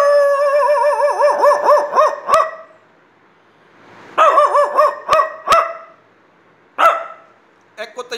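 A voice imitates a dog barking at night, producing loud drawn-out howling barks in two long bursts with sharp clicks and silent pauses between them.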